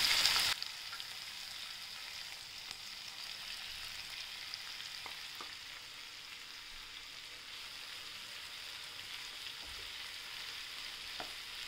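Peas and vegetables sauté in a pan for vermicelli upma, a faint steady sizzle with sparse soft stirring clicks, after a brief louder burst at the very start.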